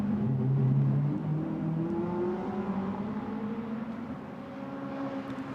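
Small 310R race cars lapping Spa Francorchamps circuit, a steady engine drone with rising and falling pitch as several cars pass, continuous and fairly loud with no talk.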